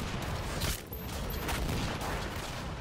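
Gunfire aimed at the player in a DOOM multiplayer match: a dense, continuous volley of shots and impacts with steady rumbling background, loud and close, with no talking.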